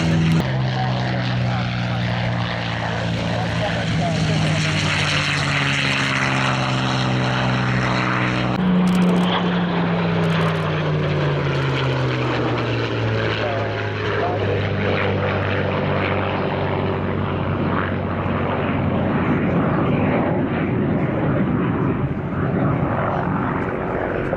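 A military aircraft takes off at an airshow, its propeller and engine drone loud and continuous with slowly falling pitch as it climbs away, filling the whole stretch without pause.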